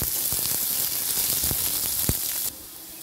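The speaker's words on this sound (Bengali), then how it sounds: "2 থেকে 3 মিনিট আমি লালচে লালচে করে ভেজে নিব পেঁয়াজ" Chopped onions frying in hot oil with panch phoron spices, a steady close sizzle with scattered crackles and pops that drops suddenly quieter near the end.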